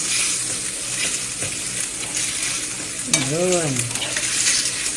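Tomatoes stirred in a frying pan with boiled pasta, a steady loud sizzle and scraping stir close by, with a brief spoken word and a short sliding vocal sound near the end.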